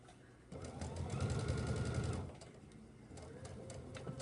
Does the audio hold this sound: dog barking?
no